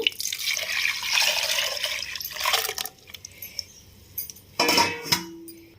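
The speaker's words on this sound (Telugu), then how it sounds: "ఇప్పుడు ఇందులోకి మనం రెడీ చేసి పెట్టుకున్న పులుపుని యాడ్ చేద్దాము" Tamarind extract poured into cooked lentils for sambar, a close liquid trickle and splash that runs for several seconds, pauses, then returns in a short burst with faint utensil clinks.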